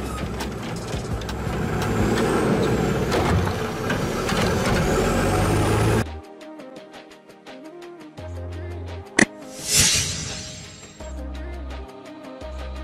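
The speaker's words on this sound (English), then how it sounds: "Garbage truck." A garbage truck idles and works nearby with a heavy diesel rumble, then its hydraulics whine and an air brake hisses in a sharp burst among clanking mechanical sounds.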